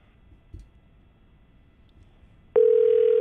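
A single telephone ring tone on a live morning radio show's call line starts abruptly after quiet line noise and holds as a steady, loud electronic tone.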